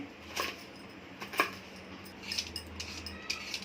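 A knife cuts ridge gourd into medium pieces on a board, a few faint, scattered taps and clicks close by in a quiet kitchen.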